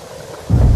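Heavy rain hisses steadily, then a deep, loud thunderclap rolls in halfway through and rumbles to the end of a short stormy burst.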